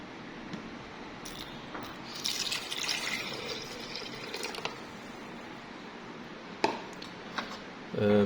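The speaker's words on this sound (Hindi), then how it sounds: "तो सबसे पहले तो आप ये पानी इसके अंदर डाल लें।" Water poured into a glass while preparing an almond, banana and date milkshake, heard as a faint trickle and splashing with a few small clinks and knocks, with no talk.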